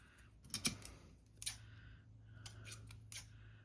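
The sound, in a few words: scissors trimming a paper banding strip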